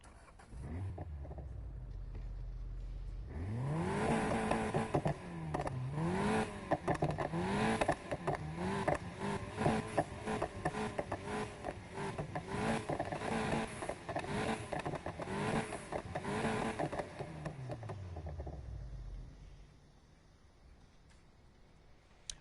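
A Golf GTI fitted with a loud, raspy aftermarket exhaust in the Need for Speed Heat video game revs repeatedly. Its engine note rises and falls in rapid, close bursts for about fifteen seconds, then settles back to idle.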